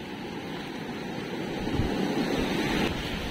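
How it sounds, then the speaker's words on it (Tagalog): Big ocean waves wash onto a seashore in a steady, rushing roar that swells slightly midway, with no voices. "Lalaki na pala ng alon."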